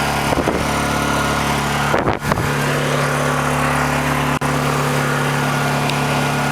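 A Honda EU2000i portable inverter generator, restarted after two years of storage, runs at a steady, loud drone with a few brief bumps and one sharp click partway through.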